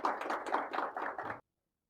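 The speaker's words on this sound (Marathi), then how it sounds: "सर्वांनी एक जोरदार टाळ्या वाजवून आजच्या कार्यक्रमाला आपण सुरुवात करूया" An audience at a tech talk event in Nandurbar claps in a short, quick burst of hands that lasts just over a second and then cuts off abruptly into silence.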